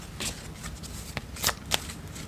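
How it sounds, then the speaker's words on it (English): Message cards being shuffled by hand give a quick run of papery riffles and soft slaps, close and brisk over a light background hiss. "let's grab these message cards and see what messages they have got for you"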